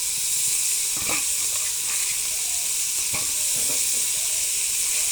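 Mixed vegetables for khichuri sautéed in a hot pan, hissing and sizzling loudly and continuously, with a few soft clinks and scrapes from stirring and no talking.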